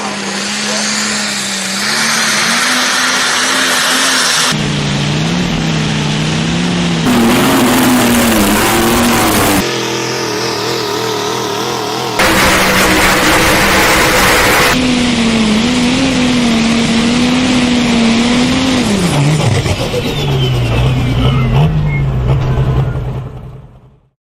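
John Deere tractor engine at a tractor pull, loud sustained roar with pitch rising and falling over long stretches, close and continuous, with crowd and announcer noise blended underneath.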